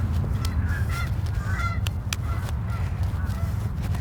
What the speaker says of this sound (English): Geese, shut up. Stupid geese.